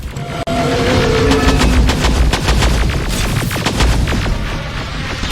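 Rapid, loud bursts of gunfire and heavy booms fired at a T-850 endoskeleton in the video game Terminator Resistance, a dense, continuous barrage of cracking shots with no talking.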